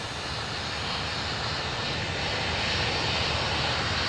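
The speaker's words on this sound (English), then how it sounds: "There goes the little Learjet." In the video game Tower! Simulator 3, set at Austin airport, a small Learjet's jet engines drone as it departs, a steady, dense, even roar with no talk over it.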